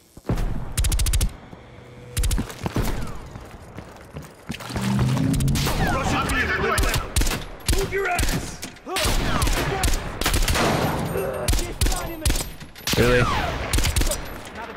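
Bursts of gunfire crack and rattle in Call of Duty Black Ops Cold War, with repeated volleys and sustained automatic fire across the scene, mixed with game effects and a brief spoken word.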